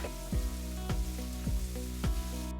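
Paprika and black pepper sauté in a pan, a continuous close sizzle broken by about five evenly spaced scraping stirs.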